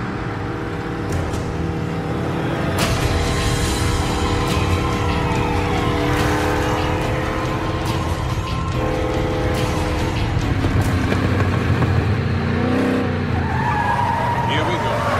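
A car drives with its engine running and revving, tires squealing and skidding under layered film sound effects and music. People talk over it at times.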